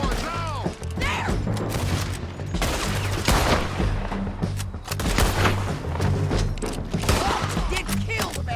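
Gunfire rattles through a Red Dead Redemption 2 shootout, dense overlapping shots and booms in a loud continuous barrage with crashes and shouting voices mixed in.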